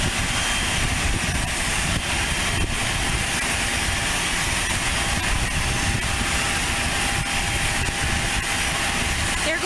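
A small airplane takes off at Aurora Municipal Airport, giving a continuous engine and propeller drone that holds steady and fairly loud throughout, with a voice talking over it.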